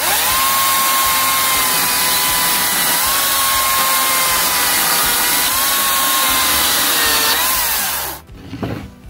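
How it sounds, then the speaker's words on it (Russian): A Makita cordless chainsaw, DUC302 or DUC356, cuts through wood with a loud, steady high-pitched motor whine that runs for about eight seconds, then cuts off and spins down, leaving a short clunk. "Одной рукой пилится вообще легко."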